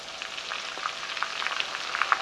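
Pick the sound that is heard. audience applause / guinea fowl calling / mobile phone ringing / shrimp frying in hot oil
shrimp frying in hot oil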